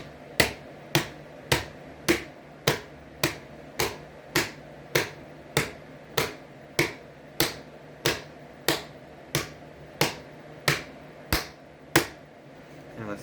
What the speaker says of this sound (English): try clapping it with your hands like this